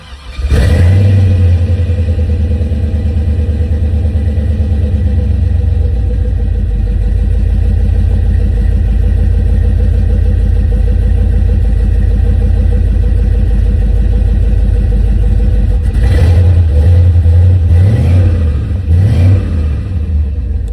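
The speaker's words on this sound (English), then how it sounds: "let's crank her over, see if she starts again" An LS V8 engine that hydrolocked from a stuck injector runs loud and steady, a continuous low rumble throughout with a couple of revs near the end and no talk over it.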